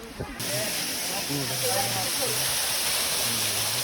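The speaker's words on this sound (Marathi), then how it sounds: "हे बघा धबधबा" A steady rush of a falling waterfall fills the scene at Raigad Fort, a constant hiss with a voice talking faintly beneath it.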